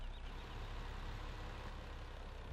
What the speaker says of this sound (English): Here's our new yellow timber truck.